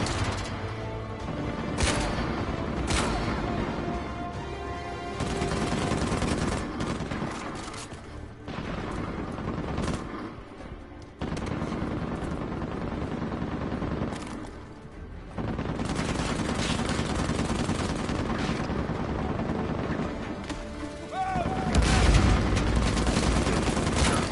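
Sustained gunfire in the Uncharted 4 video game: dense bursts of automatic fire and single loud shots with booms, almost continuous with brief lulls, loud and close.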